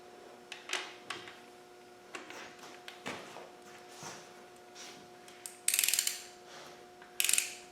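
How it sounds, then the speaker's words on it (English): A torque wrench ratchets in short bursts while tightening connecting rod bolts on a 2.25 engine during rod and piston fitting, with faint clicking runs and a couple of sharper louder ratchet bursts near the end, no talk. "I'll be tightening them down to 32 foot-pounds"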